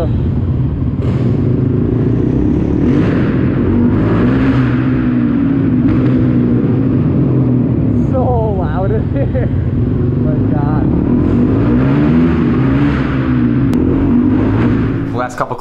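A 2020 Kawasaki KX125 two-stroke motocross bike with new upgrades revs loudly in a parking garage, its engine note rising and falling continuously in the echoing space while someone talks over it.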